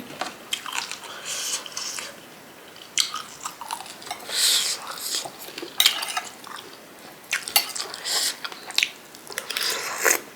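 Crunchy fresh vegetables eaten with homestyle Isan som tam and crispy pork cheek, close bites and chewing crunches in bursts with pauses, alongside occasional clinks of dishes and cutlery.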